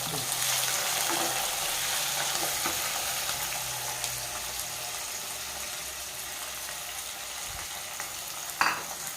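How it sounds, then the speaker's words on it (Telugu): Onions and green chilies frying in a pan for a palak tomato curry, a steady close sizzle running throughout with a brief clatter near the end and no talking. "వేగినాయా ఉల్లిపాయలు పచ్చిమిరపకాయలు"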